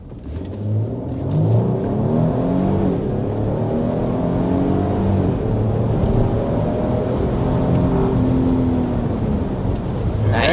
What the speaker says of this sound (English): we need to go ahead and start with a hard acceleration